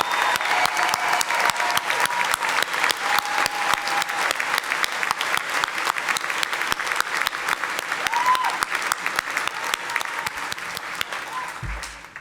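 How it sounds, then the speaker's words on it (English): Sustained, loud applause from a large crowd at a veterinary medicine college commencement ceremony, dense and even throughout before tapering slightly at the very end. "Please join me in one final round of applause for those who are serving or have served this great nation."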